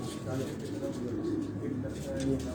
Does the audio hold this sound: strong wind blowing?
no